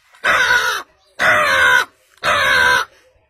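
A man mimics a crow's caw with his voice, giving three loud, drawn-out caws of nearly a second each, separated by short pauses, with no other sound around them.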